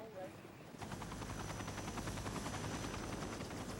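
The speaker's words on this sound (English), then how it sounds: "We loaded him onto the helicopter" A rescue helicopter on a mountain rescue, its rotor beating in a steady rapid chop with a low engine drone, loud and close, holding constant after a brief quieter lead-in.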